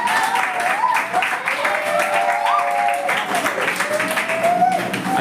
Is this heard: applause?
yes